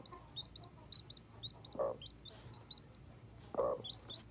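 Chickens cluck in two short, close bursts while a high, steady peeping of a baby chick repeats throughout in the background.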